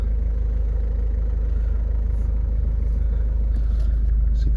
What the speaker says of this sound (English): Just push start. Starts up straight away, lovely.